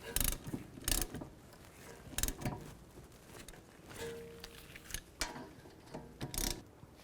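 Ratchet wrench tightening rear brake caliper bolts on a 2009-15 Toyota Prius, heard as several short bursts of ratcheting clicks with pauses between them, close up and with no talk.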